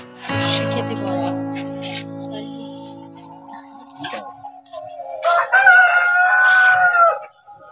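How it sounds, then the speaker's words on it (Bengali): Kadaknath chickens crow loudly nearby, with a long drawn-out cock-a-doodle-doo and scattered clucks between calls, heard on a nursery farm. "এই দেখো আমাদের করকনাথ মুরগি"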